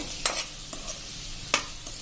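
Green chilies roast in a pan with a soft, quiet sizzle, broken by a few sharp scraping stirs of a spatula spaced irregularly.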